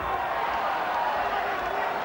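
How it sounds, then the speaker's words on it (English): Boxing crowd at the Ross Hale vs Hugh Forde fight reacting in a steady, dense roar of cheering and clapping, loud and continuous with no pause. "The crowd responded to that"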